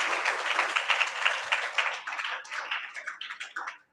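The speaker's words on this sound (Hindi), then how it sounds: "जोरदार ताली बजाओ और खड़े हो जाओ।" A church congregation at a Friday prayer meeting claps loudly, a fast, dense burst of hand claps that grows more separated and rhythmic toward the end, with no speech over it.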